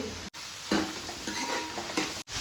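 Chicken curry frying in a home kitchen pan, a steady close sizzle with a few stirring and scraping clinks of a utensil against the pan, no talking.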